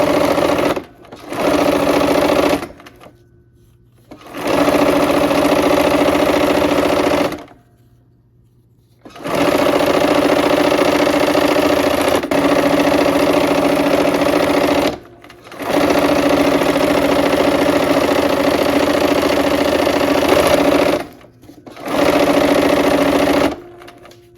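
A sewing machine stitches a quilt block in several bursts of steady, close whirring, separated by brief pauses.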